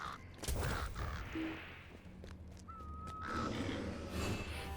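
Crows cawing in the Heart of a Hobbit video game, a few harsh calls over a busy, noisy game soundscape with a brief whistling tone in the middle.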